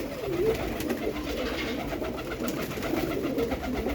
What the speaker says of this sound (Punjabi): ਕਬੂਤਰ ਦੇਖ ਲਓ ਕੱਲੇ ਕੱਲੇ ਐਂ ਫੁੱਲ ਚੰਗੇ ਕਬੂਤਰ ਆ ਬਾਈ